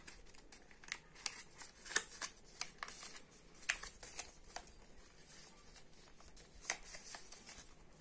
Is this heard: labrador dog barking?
no